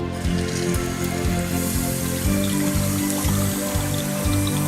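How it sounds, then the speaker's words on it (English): Water runs steadily from a modern waterfall bathroom sink faucet, a close, continuous splashing flow with a pulsing texture, and no one talks over it. "pretty nice flow of water is coming"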